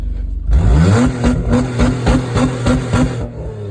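An old car engine cranks, catches and revs loudly in rhythmic surges up close before settling, a worn vehicle about to be taken to a scrapyard in the USA.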